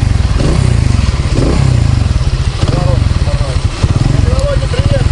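A mini bike engine runs with a loud, close, sputtering putter, rising slightly as it revs, while people talk over it.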